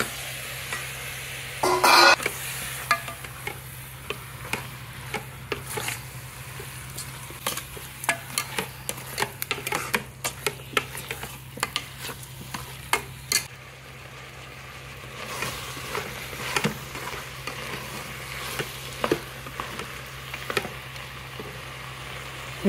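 Mutton pieces stir-fried with chili powder and spices in a pan for curry, a low continuous sizzle broken by repeated sharp scrapes and clanks of a ladle against the metal, close up, no talk.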